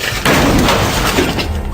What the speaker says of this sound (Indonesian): Lalu terdengarlah suara gemuruh dan dentuman benda-benda jatuh.